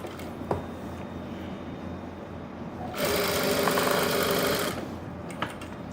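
An electric sewing machine stitches a folded hem on fabric for palazzo pants, whirring steadily in one loud, even burst of under two seconds after a quiet stretch of room noise with faint clicks.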